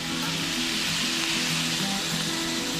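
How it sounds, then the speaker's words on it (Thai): Pork frying with panang curry paste in a pan, a steady, fairly loud sizzle that runs unbroken throughout with a faint hum beneath and no voices. "ก็ผัดให้หมูกับพริกแกงเข้าเนื้อกันนะครับจนกว่าหมูจะสุกนะครับ"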